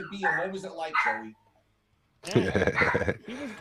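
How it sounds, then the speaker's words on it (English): A dog whines and gives short yelping barks, close by, with a brief quiet gap in the middle before the whimpering resumes. "it's not barking, it's whining now."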